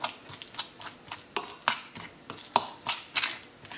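A spoon stirs banana fry batter mixed with ground cardamom in a bowl, giving a run of light, irregular clicks and taps against the bowl.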